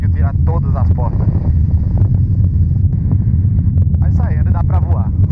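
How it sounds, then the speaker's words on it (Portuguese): Constant low rumble of wind buffeting the microphone, loud and close, with people talking over it. "E hoje está ventando muito"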